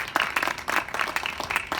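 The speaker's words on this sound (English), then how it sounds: "I want you to give a big hand of applause for Annette Gulak" An audience at a tennis coaching talk claps for a player being introduced, a short burst of scattered hand claps at moderate loudness with no one speaking over it.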